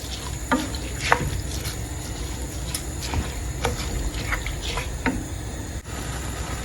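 Salt is stirred into shea butter dawadawa rice with beans, giving soft scraping and wet mixing sounds with a few sharper clinks of the spoon against the pot, over a light frying sizzle and no talk.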